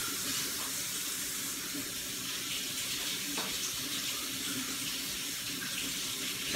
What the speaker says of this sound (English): Gotta get some hot water running over here.